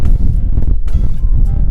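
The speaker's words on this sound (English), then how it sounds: "It's very windy." Strong wind roars and rumbles against the microphone in uneven gusts at an Australian beach campsite, loud and close, with no other sounds standing out.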